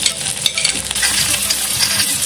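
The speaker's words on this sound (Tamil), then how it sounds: "இப்போ வந்து வெங்காயம் சேர்த்துக்கிறேன்." Onions frying in hot oil with fennel seeds for a Tamil soya chunks chukka, a steady close sizzle with stirring scrapes throughout, no talk.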